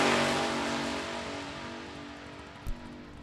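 Funny car drag racer at Mo-Kan Dragway tearing down the dragstrip, a loud broadband engine roar already at speed that steadily fades into the distance, with a brief thump near the end.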